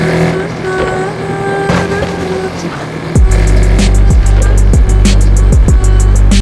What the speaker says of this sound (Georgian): პირველი პლუსი ეს არის V12 ძრავის ხმა.